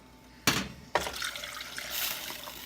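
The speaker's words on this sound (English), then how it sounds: "Now I'm going to add the water." Water poured from a bowl into a cooking pot on a stove for vegan vegetable thukpa: two sharp splashes, then a steady, softer pour running on alone.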